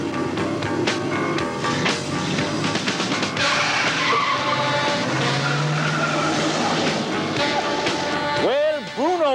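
A newspaper staff car speeds through Fells Point, Baltimore, in 1985, with loud, close tires squealing and skidding repeatedly over an engine roar, voices talking underneath.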